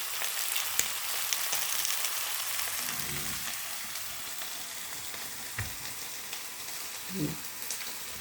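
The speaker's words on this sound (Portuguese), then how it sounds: "Deixar ele dourar bem. Daqui a pouco eu viro." Pork carré browning in a hot pan, a steady close sizzle and crackle with a few soft knocks and stirring sounds, no talk.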